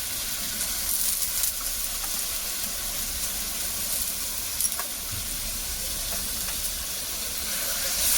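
A pan of onion and garlic paste with ginger paste fries for a village-style chicken curry, giving a steady, even sizzling hiss throughout with no talking.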